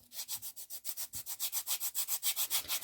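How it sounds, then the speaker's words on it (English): Small file and sandpaper rubbing back and forth on a 1/6 scale dolls house sauna miniature, about twenty steady, evenly spaced strokes in a quick rhythm, close and soft, with no voices. "So I've just basically used the little file,"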